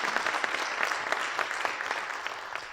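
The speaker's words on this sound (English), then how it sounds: "Let's give her a round of applause." Audience applause at a justice conference welcome, a steady wash of many hands clapping at moderate level, with no voices over it.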